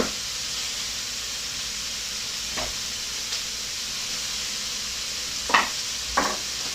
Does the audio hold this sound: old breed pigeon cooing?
no